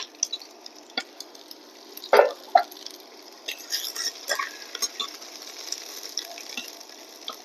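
Half a bulb of chopped garlic frying in a pan for a beetroot stir-fry, a soft steady sizzle with scattered crackles and stirring clatters, close but fairly quiet.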